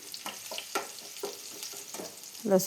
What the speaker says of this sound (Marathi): त्यानंतर एका कढईमध्ये तेल घालायचं आहे. तेलामध्ये मोहरी 1 चमचा जिरं, कढीपत्ता, नंतर लसूण